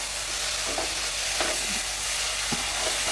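A spoon stirs tomato yoghurt curry in a pan over a constant sizzling hiss, with a few soft scrapes against the pan and no voices.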